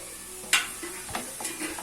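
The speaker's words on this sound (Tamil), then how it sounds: "இது ஃபுல்லாக இது மேலே கோட் ஆகிற மாதிரி நல்லா மிக்ஸ் பண்ணி விட்டுருங்க" Fried paneer is stirred through chilli sauce in a pan, with a few scraping strokes of a utensil over a soft sizzle.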